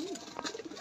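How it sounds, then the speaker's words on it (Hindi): A pigeon gives a brief soft coo while the flock eats grain, faint and close, lasting under a second. "और यहाँ हमने कबूतरों को दाना डाल दिया है। कबूतर सब दाना खा रहे हैं।"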